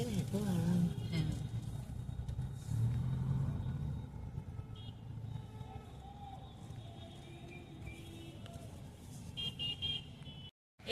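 A car creeps slowly through crowds near the light-decorated Jagannath temple in Digha at night, with a low engine rumble, occasional horn toots and people's voices inside the car.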